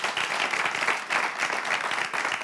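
An audience applauds at a live final, a steady wash of many hands clapping at moderate distance throughout.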